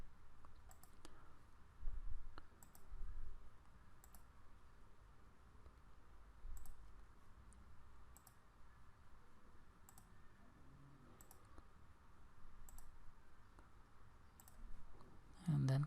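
A computer mouse gives sparse, faint clicks at irregular intervals against quiet room tone, with a few soft light taps in between.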